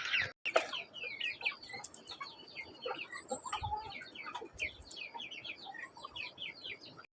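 Several chickens cluck and chatter close by among ducks, a busy overlapping flurry of short calls with a few scuffling noises.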